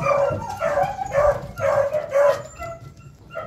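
Several dogs barking in the countryside give a steady run of loud, close woofs and yips in an uneven rhythm, with a few whimpery notes mixed in and no talking.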